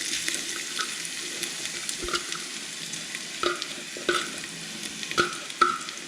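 Running tap water pours steadily while hands are washed beneath it, with occasional splashes and small knocks against the sink, close and fairly quiet.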